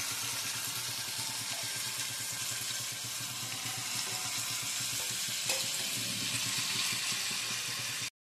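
Bombay duck fish coated in salt and turmeric fries in hot oil, giving a steady, even sizzle that runs unbroken throughout, close and moderately loud, with no voices.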